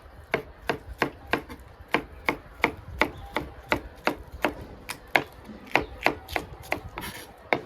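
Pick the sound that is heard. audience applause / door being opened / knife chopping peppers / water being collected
knife chopping peppers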